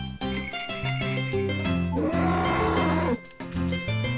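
A cow moos in the farming video game Harvest Moon: A Wonderful Life, a single drawn-out moo over game music, with no talk.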